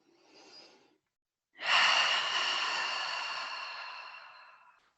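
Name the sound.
exhaling breath during yoga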